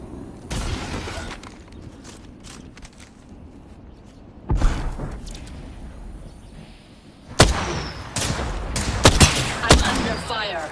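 Incoming gunfire in the Apex Legends video game: bursts of shots and impacts crackle through a noisy firefight, with sharp loud volleys around the midpoint and again near the end, over a steady background rumble.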